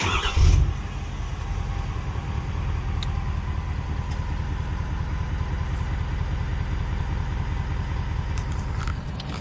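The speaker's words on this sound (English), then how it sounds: "let me fire it up for you guys with the remote start so you can hear what it sounds like on the outside" A Ford F350 diesel pickup is remote-started outside and settles into a steady idle, a low rumbling engine drone holding level for nine seconds after a brief start-up burst, heard from nearby with no talk.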